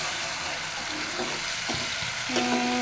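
Spice paste and onions fry in a pan for a rohu fish head curry, giving a steady close sizzle with occasional stirring scrapes.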